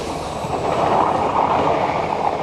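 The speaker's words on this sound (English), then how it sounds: "That cute train." A train passes close by in Machida, Japan, with a continuous rolling rumble and clickety-clack of wheels on rails, loud and steady throughout with no talking.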